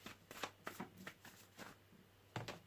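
Tarot cards are shuffled in a series of soft, papery riffles and taps, quiet and close, with irregular pauses between strokes.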